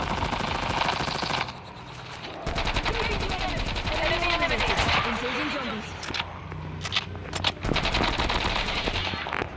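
Video game gunfire rattles in rapid automatic bursts, loud and close, while players talk over it excitedly, with brief pauses between volleys.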